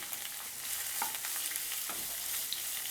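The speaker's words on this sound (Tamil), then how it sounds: "ஆனியன் நல்ல கோல்டன் ப்ரௌனாக வதங்கணும்" Onions sautéing until golden brown over a high flame for Chettinad mushroom gravy: a steady, dense sizzle with occasional scraping stirs of the pan, close and continuous.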